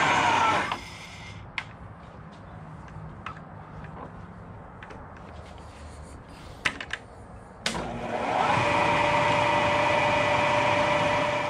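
A Bridgeport milling machine runs after reassembly of its gears, belts and motor, a steady motor hum with a few clicks, then the spindle picks up and runs louder and more evenly through the last few seconds.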